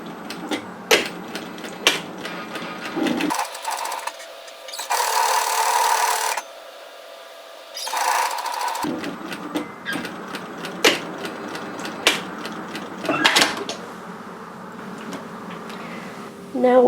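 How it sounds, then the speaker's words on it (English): A sewing machine top stitches a line along a sweater pocket to reinforce it, running in several bursts of steady mechanical whirring separated by pauses, close and moderately loud with clicks and handling noises between. "I'm going to top stitch a line of stitching"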